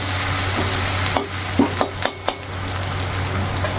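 Onions and slit green chillies fry in a pan with a steady sizzle for ivy gourd poriyal. A few short scrapes of a spoon stirring come through in the middle. No one speaks.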